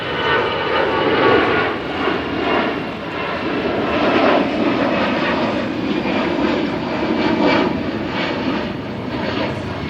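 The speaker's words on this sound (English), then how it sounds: "Where's the plane?" A fixed-wing airplane passes overhead, a steady broad engine roar holding at a constant, fairly loud level for the full stretch with no talking over it.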